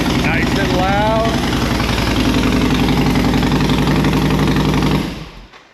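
An old boat engine that has sat for three years runs loud and steady after a pull start, a rough, throbbing mid-pitched idle that continues for several seconds before cutting off abruptly at the end.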